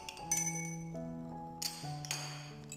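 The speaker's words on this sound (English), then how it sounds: "mix with glass rod to form a homogeneous mixture" A glass rod clinks against a glass container while stirring a glycerol mixture for a homemade cream, giving a few bright ringing taps over quiet background.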